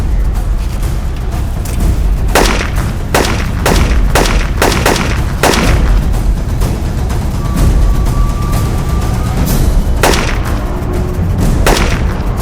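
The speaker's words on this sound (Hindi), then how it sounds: "अरे मैं कवर फायर करता हूँ ना" Cover gunfire rings out in a TV crime drama standoff, a run of sharp, loud shots in irregular bursts, some spaced and some in quick pairs, over a steady noisy background with no talking.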